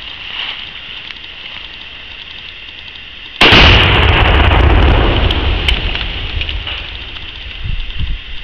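A Shockwave exploding target detonates outdoors with one sudden, massive boom, followed by a long rumbling roar and debris pattering down as the blast slowly fades across the woods.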